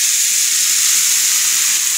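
Greens go into hot oil with fried black cumin and set off a steady, loud, hissing sizzle that keeps going without a break, with no one speaking.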